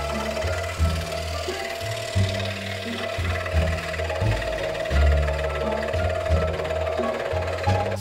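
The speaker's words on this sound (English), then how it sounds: "I cut out the pieces on the scroll saw" Scroll saw with a number 5 blade cutting wooden elephant puzzle pieces, a loud steady buzzing drone with a rhythmic reciprocating pulse, heard close up and alone.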